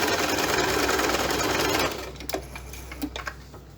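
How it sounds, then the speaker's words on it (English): A domestic sewing machine zigzag-stitches along fabric seam allowances, running in a steady, fast, dense whirr for nearly two seconds, then stopping and giving way to a few faint clicks and handling sounds. "We teach our students how to zigzag on domestic machines"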